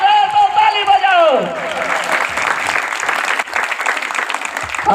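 At a Hindi-language church sermon, a congregation breaks into dense, sustained clapping that follows a loud voice and continues as a steady roar of hands.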